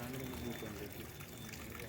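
Water flows through a pipe into a small well, making a steady, close, continuous rushing pour with a light trickling texture and no other sounds on top.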